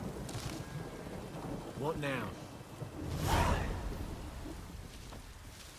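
Steady rain hiss in The Witcher 3: Wild Hunt with a rumble of thunder swelling midway, and a short spoken phrase near the start.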